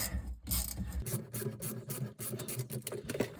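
Metal pipe clamps being unscrewed by hand on a water distribution pipe, a faint close ratcheting and scraping with uneven rubbing strokes.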